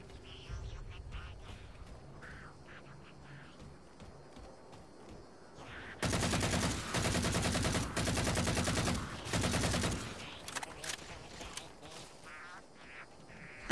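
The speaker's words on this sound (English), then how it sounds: "Let's try the shotgun again." Shotgun blasts in the video game Halo 4 fire in a loud, rapid burst of several shots in the middle, with quieter game ambience before and after.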